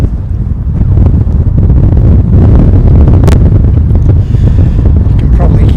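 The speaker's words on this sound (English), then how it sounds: "You can probably hear in the microphone just how windy it is" Strong gusts of wind batter the microphone at Christchurch on a plane-spotting outing, a continuous, loud low rumble, steady and overwhelming throughout.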